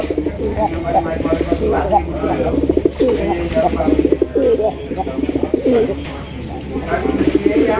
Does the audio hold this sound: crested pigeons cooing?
yes